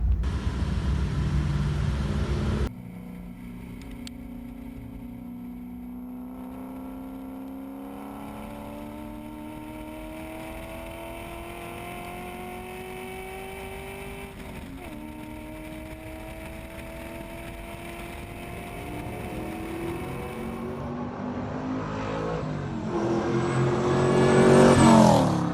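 A VH Holden fitted with a swapped LS1 V8 driving on a race track, a steady engine drone rising and falling in pitch through gear changes, building louder toward the end, with no talk.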